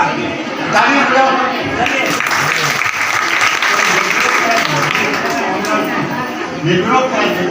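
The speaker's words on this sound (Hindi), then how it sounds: "ताली बजाओ।" A room of women at a self-help group meeting claps together, a sustained and fairly loud round of applause with some voices mixed in underneath.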